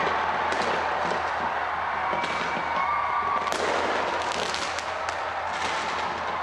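New Year's Eve fireworks display launched from the Auckland Sky Tower in New Zealand, heard as a dense, continuous crackle with scattered sharper pops and bangs at a distance over a steady roar of crowd and ambience.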